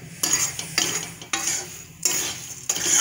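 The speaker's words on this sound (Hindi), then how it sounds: "और इसको भूनेंगे, चलाते रहेंगे कि मसाले जलने न पाए" Spiced puffed rice (murmura) being stirred and roasted in a pan over low heat, with repeated scraping, rustling strokes in an uneven rhythm, close and moderately loud, with no talking.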